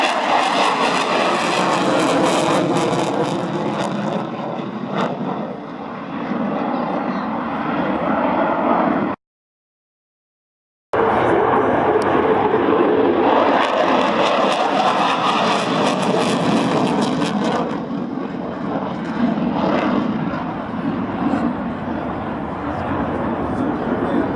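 An F-16AM fighter jet from Kleiner Brogel roars past at the Biggin Hill Air Show 2017, a loud sustained jet rumble and whine that cuts out briefly and then swells again as it passes.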